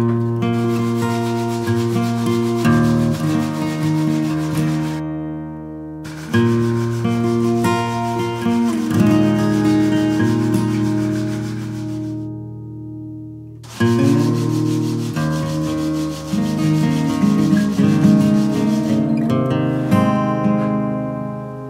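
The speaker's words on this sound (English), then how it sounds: "I'm going to keep going here with the 120, and then we'll move up to the other grits as soon as this thing is all nice and polished" Steady, loud rasping of 120-grit sandpaper scrubbing an old steel chisel during restoration, continuous back-and-forth strokes with two brief pauses, no voices.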